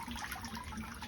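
Water in a hot tub beside a swimming pool, heard as a steady close wash of bubbling, trickling water with no pauses.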